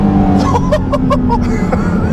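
Porsche GT4 RS engine breathing through carbon fiber air intakes, a loud close drone with a quick run of rising, stepped intake tones near the middle, recorded from inside the moving car.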